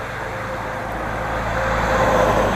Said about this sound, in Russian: Она узкая и много грузовиков на ней ездят.